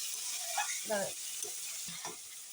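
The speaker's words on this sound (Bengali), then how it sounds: "দারুণভাবে আমি কষিয়ে নিচ্ছি" Spices for a tangra fish curry sautéing in a pan, a faint hiss of frying broken by a few soft scraping strokes of stirring, quiet and without talk.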